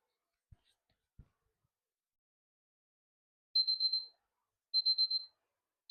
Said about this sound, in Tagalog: i-play ko na yung timer natin